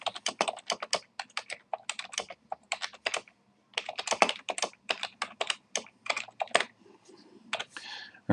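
Typing on a computer keyboard: quick bursts of crisp key clicks in uneven runs with brief pauses, close and clear, no voices.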